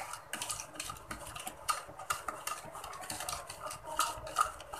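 A spoon stirring yeast dough mixture in warm water, giving soft swishing and light clinks against the bowl in an irregular rhythm, close and quiet with no talk.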